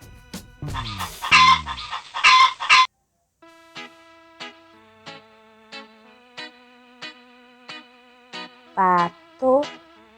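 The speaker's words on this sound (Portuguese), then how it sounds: "galinha," A chicken clucks in a steady series of short, clear clucks at an even rhythm, close and fairly loud, after a louder burst of calls at the start.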